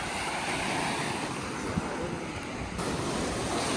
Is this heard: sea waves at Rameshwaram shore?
yes